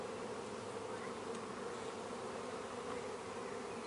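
Honey bees in an open hive with fresh white comb and shiny nectar, a dense, steady buzz that holds close and even throughout with no voices.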